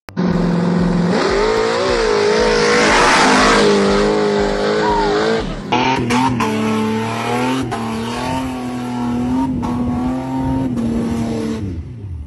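Jeep Cherokee XJ on an off-road trail, its engine revving hard and rising and falling in pitch as the vehicle drives and climbs, loud and close with no voices over it.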